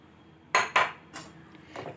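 Spoon clinking against a bowl while flattened rice is mixed with curd, a few short distinct clinks in a quick pair followed by two softer ones.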